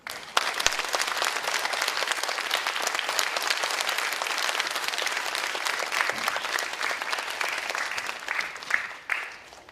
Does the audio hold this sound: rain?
no